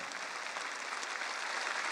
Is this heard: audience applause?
yes